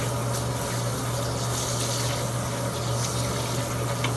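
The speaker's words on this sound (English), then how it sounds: "I run hot water." Hot water running steadily from a household tap, a continuous close broadband rush with a low steady hum underneath, unbroken for the whole span with no talking.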